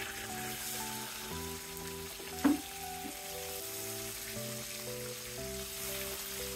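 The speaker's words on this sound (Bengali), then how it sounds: "এবার আমি 2 পাশ ভেজে নেব" After being turned over, katla fish pieces fry on their second side in hot oil, giving a continuous even sizzle with one brief louder spit partway through and no voices.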